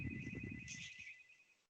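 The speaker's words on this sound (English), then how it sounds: "Are you ringing in the background? You got another phone going there" A phone ringtone chimes faintly in the background for under two seconds over a low murmur of voices, then cuts off abruptly.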